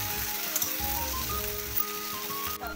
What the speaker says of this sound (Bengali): এবার খুব ভালো করে সবগুলো ভেজে নেব।